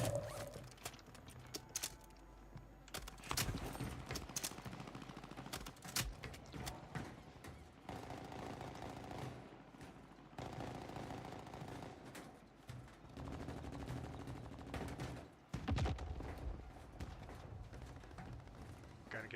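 Gunshots ring out in a multiplayer shooter game, scattered single cracks and short bursts at varying distances over a low ambient bed, with no talking.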